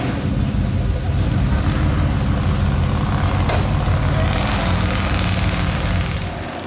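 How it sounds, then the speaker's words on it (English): A Ford 4x4 truck being winched through a muddy puddle, with a loud, constant engine drone and low rumble filling the whole scene, close and steady with no clear breaks. "it was now time to start the slow process of dragging the Ford through the puddle"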